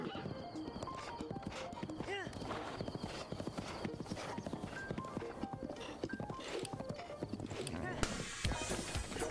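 Horse hooves clip-clop rapidly and continuously as a horse is ridden in Breath of the Wild, with occasional whinnies, game sound effects and someone talking over the steady rhythm.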